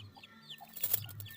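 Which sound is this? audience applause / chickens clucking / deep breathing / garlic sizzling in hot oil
chickens clucking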